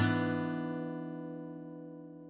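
A single guitar chord for the A section of a piece is strummed once and rings out alone, its sustained tones slowly fading.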